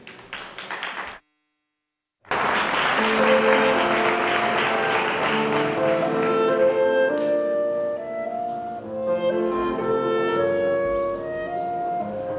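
An audience gives a music group a long burst of applause at an honorary award ceremony. A short clap is cut by a brief silence, then dense, loud, sustained clapping follows while music plays underneath.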